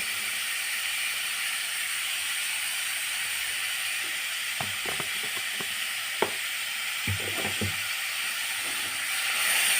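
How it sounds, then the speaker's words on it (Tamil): Masala with spice powder and salt sautéing in a pan: a steady, fairly quiet sizzle with a cluster of spoon scrapes and taps near the middle. "போட்டு கொஞ்சம் வதக்கிக்கோங்க நம்ம எடுத்து வச்சுருந்த மசாலா தூளையும் அதோட போட்டாச்சு"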